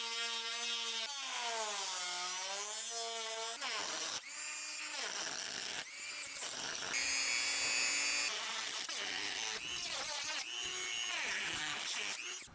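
Power tool cutting through a steel body panel on an E30 BMW during auto body work, a steady high whining drill-like tone that shifts pitch as the cut progresses, close and loud, without talk.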